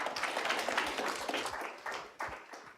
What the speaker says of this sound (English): big round of applause for Natalie